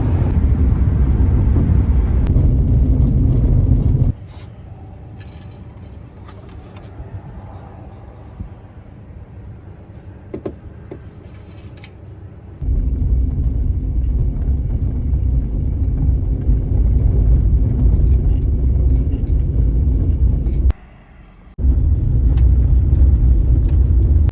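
A car on a long road drive toward Alaska and the Yukon, a steady loud engine and tyre rumble that drops to a quieter drone partway through and then returns, with no talking.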